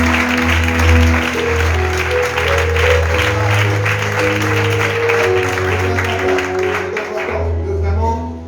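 A church congregation bursts into sustained applause and cheering, steady clapping lasting several seconds over a sustained musical backing before fading out.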